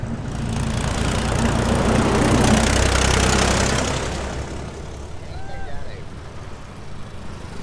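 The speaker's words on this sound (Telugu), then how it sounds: "ఇదా ట్రాక్టర్ వస్తుంది" A tractor engine rumbles on a road, a loud low chugging drone heard near that swells and then gradually fades as it passes, with a faint voice underneath.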